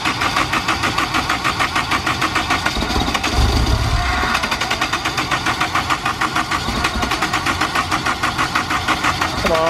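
A Honda S2000 engine cranks over steadily on the starter, a continuous rhythmic churning that runs loud and close for the whole stretch, with a brief low surge partway through as the motor catches.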